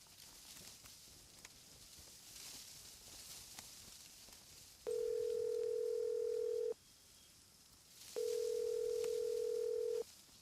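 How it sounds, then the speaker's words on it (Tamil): An unanswered phone call rings out in a Tamil drama, heard as two long, steady electronic ringback tones separated by a pause, over a faint room background. "பெத்த அம்மா தானே ஃபோன் பண்றேன், எடுத்து தொலைக்கலாம்ல"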